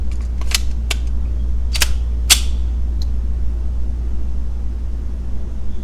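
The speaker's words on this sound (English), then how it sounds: "Let's get it loaded up with that mag I just showed you." Magazine being loaded into a custom FN 509 pistol at an outdoor range: a few sharp metallic clicks and clacks close by over a steady low background rumble, with no talking.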